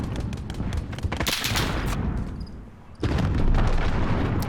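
Rapid gunfire in Call of Duty: Modern Warfare, dense crackling shots in a fast burst, a brief lull, then another loud sustained volley close by.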